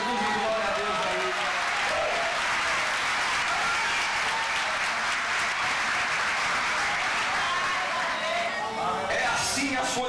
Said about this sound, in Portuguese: uma salva de palmas para Jesus e glória a Deus aí